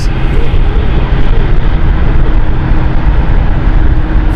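Aircraft taking off from runway 27 at London City Airport, a steady, loud broadband jet roar that holds constant throughout without a break.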